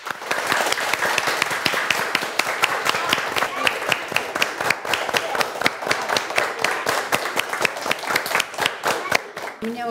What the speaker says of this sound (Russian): Аплодируем вам.